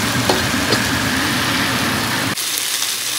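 Ground spices sizzle and fry in a pan in oil while a shukto is being cooked: a close, dense hiss that cuts off abruptly partway through, leaving quieter background.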